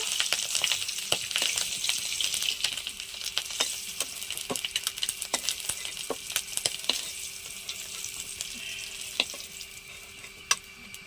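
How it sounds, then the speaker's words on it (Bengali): Onion, green chili, ginger, garlic and a bay leaf fry in a pan, giving a continuous close sizzle with scattered crackles and pops throughout. "আর এদিকে পেঁয়াজ কাঁচা লঙ্কা আদা রসুন আর একটা তেজপাতা দিয়েছি দিয়ে একটু ভেজে নিয়েছি"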